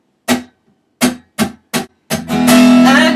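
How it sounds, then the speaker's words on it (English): The chorus of a song played on instruments, opening with four punchy separate chord stabs before breaking into a dense, loud, sustained strummed section, close and clear. "And the chorus sounds like this."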